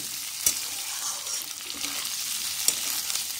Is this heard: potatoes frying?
yes